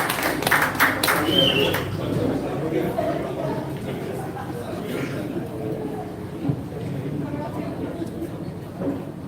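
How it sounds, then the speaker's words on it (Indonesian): A crowd at the opening of a cafe in Bandung breaks into brief applause at the start, fading into murmuring chatter and room noise as people talk. "Tepuk tangan untuk Kak Abdullah."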